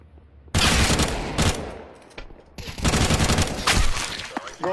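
Gunfire in a shooter video game, with dense bursts of rapid automatic shots and sharp cracks cutting in and out, loud and close, briefly pausing before another sustained volley.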